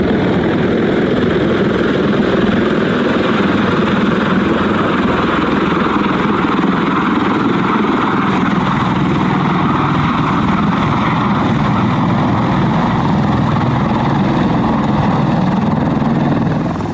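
A helicopter flies overhead, its dense rotor and engine roar steady and loud throughout, with no talk over it.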